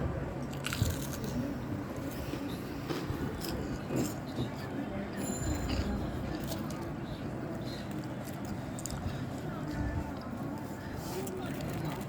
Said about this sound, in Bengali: এখানে আমার সব কিছু ভাজা হয়ে গেছে, এখন খেয়ে নিব।